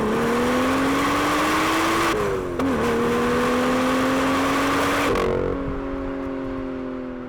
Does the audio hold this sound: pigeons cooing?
no